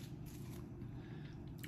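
Crunchy, spicy seasoned firecracker crackers being bitten and chewed up close, a steady, soft, crisp crunching that runs the whole time with no talking.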